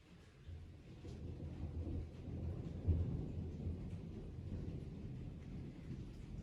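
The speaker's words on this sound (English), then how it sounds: "There goes the thunder." Low, rolling thunder rumbling steadily during a storm, faint and distant, with one slightly stronger swell partway through and no voices.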